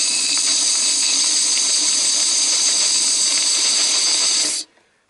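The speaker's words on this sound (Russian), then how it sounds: "я продую цилиндр при помощи компрессора" Compressed air from a compressor blasts through an engine cylinder, blowing out aluminum shavings with a loud, steady hiss that holds for about four and a half seconds and then cuts off abruptly.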